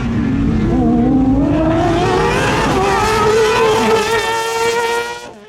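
A 600cc Kazmat crosskart races hard through a stage, its engine screaming loud and close, climbing in pitch through the gears with rapid shifts before it fades away at the end.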